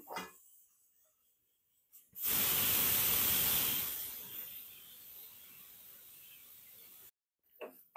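Onion and okra sautéing in a pan, a loud burst of hiss and sizzle that starts abruptly, then settles into a softer steady frying crackle before cutting off.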